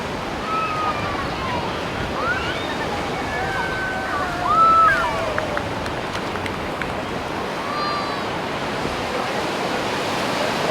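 Ocean surf at Dhanushkodi beach, with waves arriving from several directions, rushes continuously in a broad, steady wash of noise, with faint chirping calls and a voice briefly in the background.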